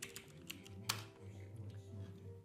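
Keys tapped on a computer keyboard while logging into a server as root over an SSH session, a few quick light clicks with one louder keystroke, over a steady low electronic hum.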